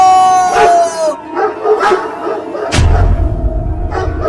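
Cartoon dogs bark and yip in quick bursts, voiced in a comic animated style, with a whimpering howl among them and other sound effects rumbling underneath toward the end.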